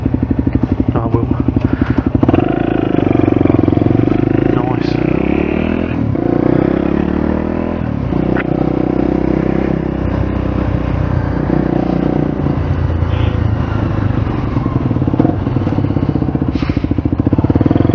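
A motorcycle engine runs steadily and loudly close by for the whole stretch, with some clattering and scraping mixed in and a few voices faintly underneath.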